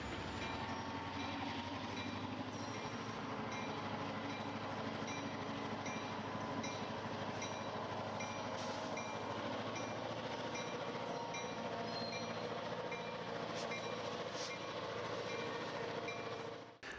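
A model train on a Grand Trunk Western layout hauls four loaded cars up a 2.5% grade, giving a steady, continuous rumble and clickety-clack of wheels on track, with occasional faint squeals, and no talk.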